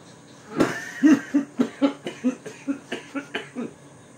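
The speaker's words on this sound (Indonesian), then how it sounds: "Melangkah lagi sambil batuk-batuk kecil." A string of about a dozen small, evenly spaced coughs from a single person during a dramatic script reading, moderately close and alone, with no talk over them.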